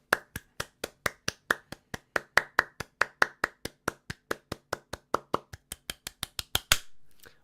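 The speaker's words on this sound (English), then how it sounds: "Can we get a huge round of applause" Rhythmic clapping at a FUZE game jam event, sharp evenly spaced claps in a steady beat, fairly close and loud, ending abruptly with no talking.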